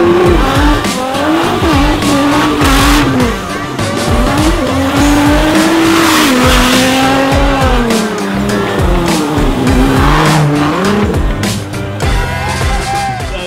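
A shifter kart racing around town, its high-pitched engine loud and close with repeated rising revs and drops between gear changes, accompanied by tyre squeal, with no talk.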